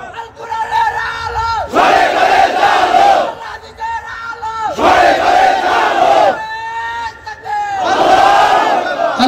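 At a Bangla religious sermon gathering, a large crowd roars the takbir response, three or four loud bursts of massed shouting alternating with a lone amplified call, the chanting echoing and repeated in rhythmic call and answer.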